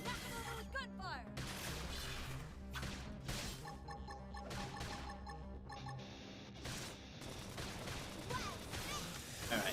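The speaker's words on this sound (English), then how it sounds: "Knock it over with gunfire." Gunfire in the video game Xenoblade Chronicles X, a series of sharp bursts and impacts layered over busy battle effects and music, fairly faint overall.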